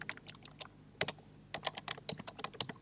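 Typing an SQL delete query on a computer keyboard during a database lab: a quick irregular run of close, crisp key clicks with a louder double tap near the start and a busier patter toward the end.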